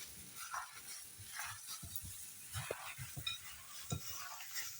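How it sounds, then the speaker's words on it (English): Beef ball ingredients, including egg and minced beef, being mixed together by hand, with soft irregular squishing and stirring sounds and occasional light clinks against the bowl, close and fairly quiet. "I'll mix up everything together"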